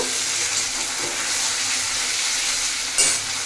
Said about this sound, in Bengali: এটাকে একটু ভালো করে নাড়িয়ে নেব